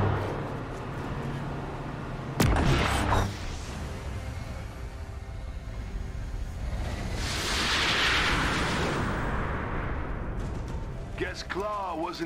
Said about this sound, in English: Oké, hier is die Sonic Cannon.